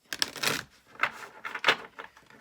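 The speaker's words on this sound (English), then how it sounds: "Let's see if I can shuffle first" A deck of tarot cards being shuffled by hand, close by, in several quick rustling, snapping bursts with short pauses between, no voices over it.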